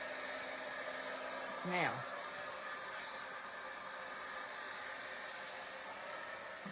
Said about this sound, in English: get my heat gun off